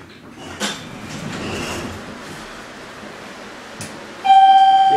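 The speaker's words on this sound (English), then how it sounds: "Pretty cool that motor sound." A Kone scenic elevator motor at the Vesey Street bridge in downtown Manhattan runs with a broad whooshing rumble and a few knocks, then a sharp, steady high whine rises loudly near the end.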